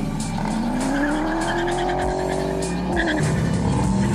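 A Mercedes E500 and a BMW 540i launch hard in a drag race, engines roaring loud and close with a rising pitch, then a brief dip and a renewed climb as a gear change comes through.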